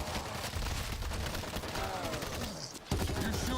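Rapid video game gunfire from a zombie shooter, bursts crackling steadily under a dense mix, with a voice briefly speaking partway through.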